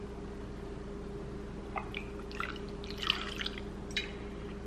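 Highland Park Valkyrie single malt Scotch poured into a crystal glass, a faint trickle and a few soft drips and splashes over a steady low hum, with no talking.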